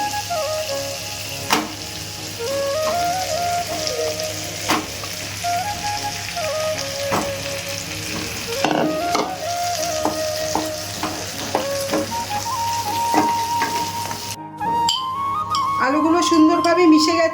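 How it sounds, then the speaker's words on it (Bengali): Boiled potatoes being stirred into softened fried tomatoes in a pan for masala dosa filling, a steady sizzle with repeated scraping stirs and clinks over a faint hum, louder toward the end. "আমি এর ভেতর আলুগুলো দিয়ে মিশিয়ে নেব"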